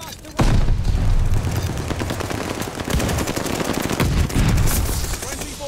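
Shotgun blasts in the Call of Duty Vanguard video game: several loud, booming shots in quick succession, with heavy reports around them.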